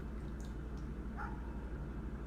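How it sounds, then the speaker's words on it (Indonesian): A dog barks faintly in the distance in the horror video game Silent Still 2, a few soft yips over a steady low background hum. "Ih, ada suara guguk."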